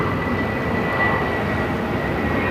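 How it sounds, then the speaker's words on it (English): A Southwest Boeing 737-800 arrives on the runway at Phoenix airport, giving a loud, steady engine roar with a faint whine on top. It stays close and constant throughout, with no voices. "it's flight 962 coming in from Albuquerque. The 737-800."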